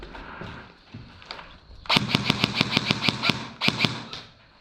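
Airsoft guns firing near an old railway site with catacombs and pillars: a few faint scattered shots, then a close rapid burst of about a dozen sharp snapping pops, a brief pause and a short second burst.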